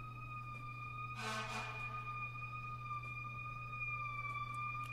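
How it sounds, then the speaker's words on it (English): Emergency vehicle sirens wail outside, heard faint and distant as a sustained tone over a steady low hum, with a brief louder swell midway and no talk over it. "Here come more sirens."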